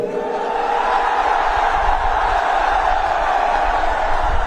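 A huge crowd at a BSP political rally in Lucknow roars and cheers continuously, a dense, sustained wash of voices with shouts rising within it, loud and unbroken for the whole stretch.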